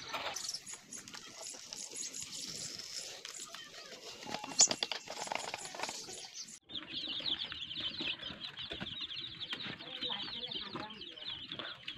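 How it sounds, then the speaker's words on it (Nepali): Local chicken chicks, about fifteen days old, cluck and peep continuously at close range in a poultry farm setting, with wing flutters and scratchy movement throughout. "मेरा चाहिँ यो चल्लाहरू लगभग आज 15 दिन जति भइसक्यो, देख्न सक्नुहुन्छ।"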